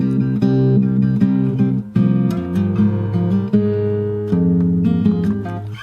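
Fingerstyle acoustic guitar plays the second section of a theme, plucked melody notes over a steady low bass line, close and clear with no talking.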